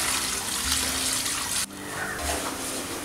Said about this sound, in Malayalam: അടുക്കളയിലെ മാലിന്യങ്ങൾ നമ്മൾ ഇതിലേക്ക് ഒഴിക്കുന്നു.